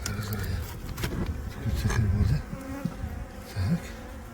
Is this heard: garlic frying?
no